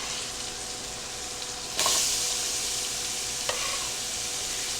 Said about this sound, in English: we're going to start adding our sausage and onions. Love that searing sound.